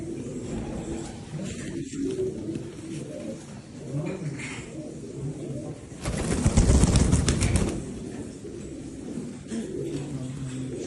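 Pigeons coo in a loft holding fancy breeds, mostly females with a few males and small young, in soft repeated coos close by, with a burst of wing flapping midway and someone talking over them.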